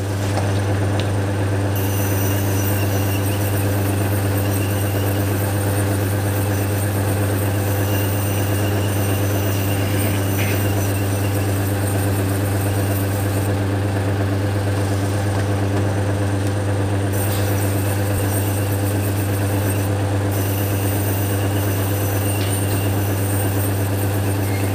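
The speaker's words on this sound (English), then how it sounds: "now we're going to start sanding it" An agate cabochon is sanded on a lapidary machine, with a steady, loud motor drone running unbroken for the whole stretch and no voices.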